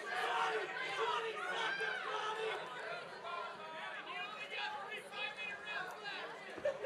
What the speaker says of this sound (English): Pro Crotty crowd